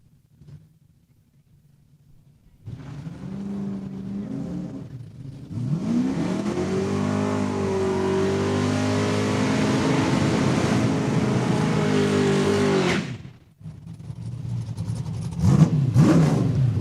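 The Bad Company Camaro, a Sportsman class drag racing car at Saskatchewan International Raceway in Saskatoon, revs, then launches and accelerates hard. Its engine note climbs steadily for about seven seconds before cutting off, and a second engine roars in near the end.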